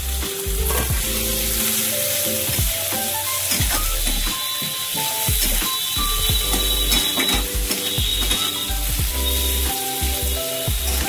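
Prawns that were fried earlier are added to a pan with a little sugar and stirred in, sizzling loudly under the repeated scrape and clank of a utensil against the pan, with no voices.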